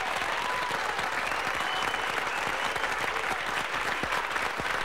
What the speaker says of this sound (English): Somebody give me an applause track.